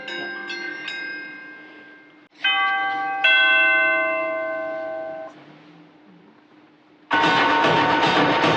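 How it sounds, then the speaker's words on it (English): Orchestral bells ring out in clear, sustained tones during a mixing workshop, several struck notes decaying in sequence before a denser, louder burst of full sound closes the passage. "And the orchestral bells too?"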